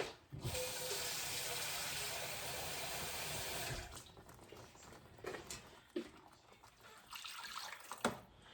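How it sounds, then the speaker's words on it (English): Running water pours steadily into a pan of liver for a few seconds, then stops, followed by a few clinks and soft handling sounds of the pan. "So I'm going to add a little bit more water."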